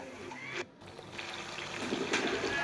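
Hot frying oil drains off freshly fried rice murukku in a soft, continuous trickle, close and fairly quiet, with a brief dip near the start.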